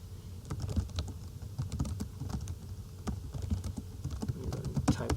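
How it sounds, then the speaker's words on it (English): Close, steady typing on a computer keyboard, a rapid run of light clicking keystrokes continuing alone without talk for several seconds. "Type this in here."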